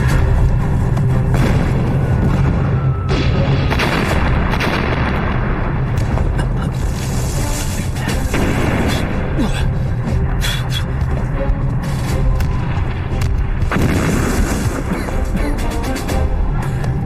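Bombing explosions land close to army headquarters in a Chinese war film set during the Korean War, giving a loud, sustained booming rumble with crashing impacts throughout.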